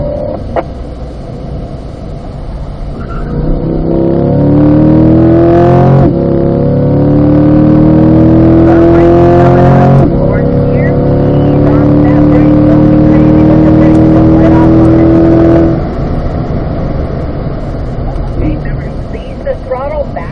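Race car on a road course, accelerating hard out of a corner with a loud, rising engine note that climbs through gear changes and holds steady, heard close as if onboard.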